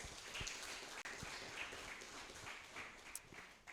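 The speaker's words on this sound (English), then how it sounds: "One more round of applause." Faint, distant applause from an audience, a soft wash of clapping throughout at low volume.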